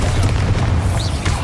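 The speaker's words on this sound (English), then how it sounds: "Bombarda!" A Bombarda explosion spell in Hogwarts Legacy, a sustained low boom with a rumbling blast tail that fills the whole short moment, loud and close, with no voices.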